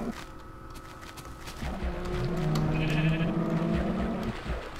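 A Minecraft sheep lets out a wavering bleat that swells in the middle and fades, close and clear over faint game background noise, with some soft clicks nearby.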